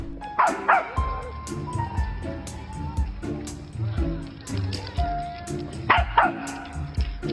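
A dog yips and barks in excited bursts while teasing monkeys, with a few whimpering cries, heard close and lively over a busy, cluttered background of other sounds.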